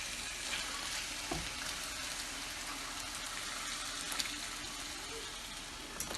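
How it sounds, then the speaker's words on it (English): Slider meat simmers in sauce with a faint, steady bubbling sizzle, broken now and then by soft clicks of stirring. "So right now I'm just moving the sauce, getting them saucy, letting them boil, let them simmer a little bit."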